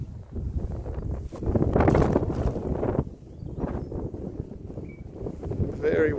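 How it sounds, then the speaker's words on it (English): Gusty night wind at a fishing spot buffets the microphone in uneven bursts, roaring louder and fading, with a faint rustle underneath. "Very windy here tonight."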